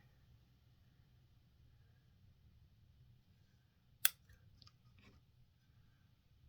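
Scissors cutting leaves while trimming flowers for a miniature house craft: one sharp, close snip followed by two softer clicks in an otherwise quiet room.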